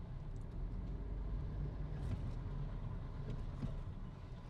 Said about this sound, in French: Encore une voiture.